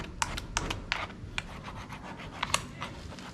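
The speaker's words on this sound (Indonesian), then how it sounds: "Kita bersihkan menggunakan kikir si kepalanya nih." A hand file rasps across the head of a car battery terminal to clean it. Short, close scraping strokes repeat in an irregular rhythm at moderate volume, with no voices.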